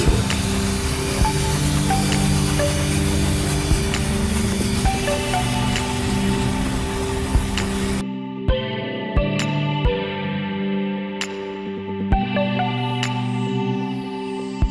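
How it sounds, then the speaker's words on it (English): A long continuous hiss of aerosol lube sprayed onto a bicycle chain as the wheel turns, cutting off partway, followed by quieter clicks and soft ringing tones. "rotate the wheel and spray the lube on the chain properly"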